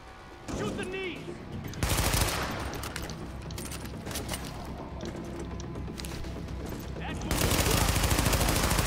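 Dense, loud gunfire in Tom Clancy's The Division, with rapid continuous shots that keep going almost the whole time and grow heavier near the end, along with thuds and impacts.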